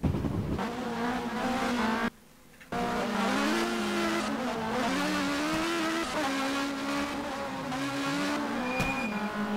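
Rally car engines in a racing video game, loud sustained revving with shifting pitch, tire squeal and skidding over a continuous roar, broken by a brief dip in level.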